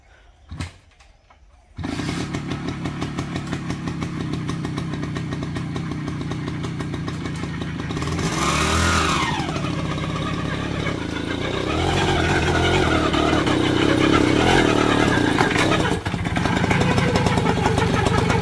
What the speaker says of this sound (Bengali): এই হুন্ডার মধ্যে আমরা 3জন যাতায়াত করি, কৃষ্ণ আমি